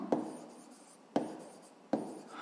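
A pen writes a maths exercise answer on paper in three short, crisp strokes, each a quick close tap-and-scratch that fades, spaced about a second apart in a quiet room.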